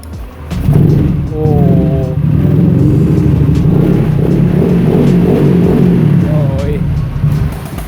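A Honda Vario scooter with an aftermarket exhaust fires up on its electric starter and settles into a steady, loud idle nearby, while people talk over the running engine.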